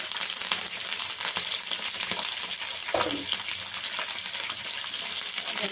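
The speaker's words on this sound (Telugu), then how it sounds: "ఫ్రై అయిన దాకా మనం ఫ్రై చేసుకున్నాం" Split green chillies, dried red chillies and curry leaves frying in hot oil, making a loud, dense sizzle and crackle that stays constant from start to finish, with a few light clinks.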